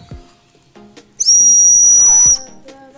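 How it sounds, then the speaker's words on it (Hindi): A turbo whistle gives one loud, sustained, high-pitched whistle lasting just over a second, with quiet handling clicks and soft background sounds before and after. "नॉर्मल ये सीटी की तरह आवाज़ करता है, नॉर्मल एक सीटी की साउंड करता है।"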